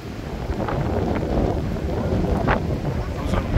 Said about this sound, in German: Ja, sehr windig ist es heute wieder.